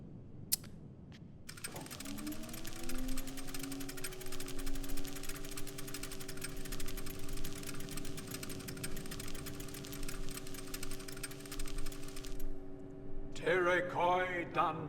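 A machine left running in the Riven video game, a steady droning hum with layered tones and a fine buzzing texture that starts abruptly and holds for about ten seconds, then cuts off, with speech around it.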